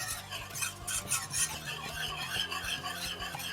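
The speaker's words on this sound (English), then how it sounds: "Now at this point I'm going to slowly mix in the remaining cream." Cream being stirred into a thickening cheese sauce for mac and cheese, heard as a continuous wet, swishing churn with soft utensil scrapes and clinks against the pan.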